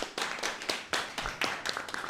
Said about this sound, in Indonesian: beri tepuk sekali lagi dong untuk beliau